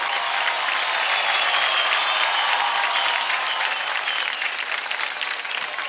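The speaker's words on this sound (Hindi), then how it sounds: "जोरदार तालियां हो जाए वैभव और मोहिना के लिए." A studio audience on a TV dance competition show gives loud, sustained applause, a thick unbroken roar of clapping with faint crowd noise throughout.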